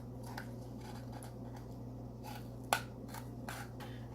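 Scissors cutting around the edge of a handmade Maleficent horns craft piece; quiet, scattered snips and paper rustles over a low steady hum, with one sharper click near the end.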